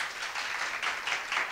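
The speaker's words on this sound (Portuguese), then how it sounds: "Salva de palmas para a menina" A class applauds in a Portuguese grammar lesson, brief, fairly loud group clapping with a bright, uneven patter of hands.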